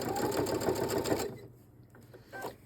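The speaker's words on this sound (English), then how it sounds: "We're going to stitch right along the edge here, down the other end." A sewing machine stitches along the edge of a fabric key fob in a fast, steady whir for about a second, then stops, leaving faint handling noises.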